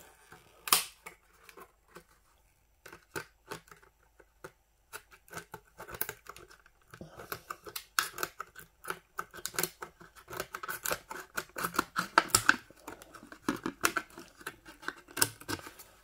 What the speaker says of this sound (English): This one should be easier to cut it out.